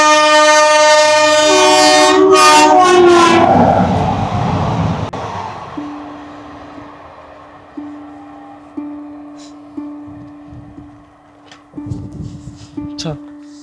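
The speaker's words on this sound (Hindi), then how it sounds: "ट्रेन भी आ गई।" A train pulls in with a long, loud multi-tone horn blast, followed by rolling rumble and a steady rhythmic clack of wheels over rail joints as the cars pass nearby.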